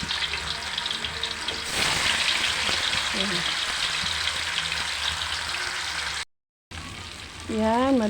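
Tofu (tokwa) frying in a pan for eggplant in shrimp paste, a steady close sizzle with crackling and spattering, running loud throughout apart from a brief break near the end, with faint voices in the background.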